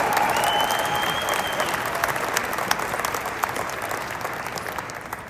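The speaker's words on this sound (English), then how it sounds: "You're supposed to clap right there." Audience applause fills a hall after a talk by a football coach, steady dense clapping holding at a loud, even level for several seconds with a few sharper individual claps and cheers mixed in.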